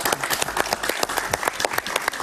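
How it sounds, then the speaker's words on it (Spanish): A studio audience on a talk show claps steadily, a dense, loud patter of many hands that fills the whole moment without a break. "Un aplauso para él, por favor."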